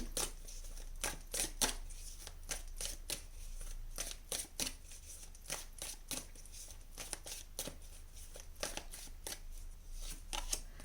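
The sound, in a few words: tarot cards being drawn from a deck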